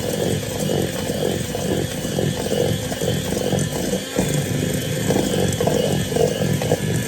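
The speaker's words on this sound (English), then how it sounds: "And now we are going to whisk it up to cream it." Electric mixer whisking vanilla cupcake batter in a home kitchen, a loud, steady motorised whir running continuously and up close, with no talking.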